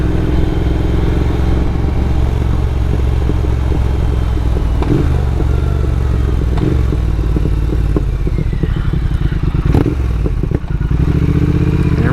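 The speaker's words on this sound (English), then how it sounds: "Definitely has a nice rumble to it now" A motorcycle engine rumbles loud and steady throughout a ride along back roads, with a continuous low drone and faint clattering over the top and no pauses.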